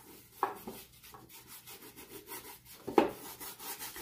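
A dry paintbrush with no paint scratches across a painting surface, soft rhythmic rubbing strokes up close with two sharper scrapes, quiet and without talk.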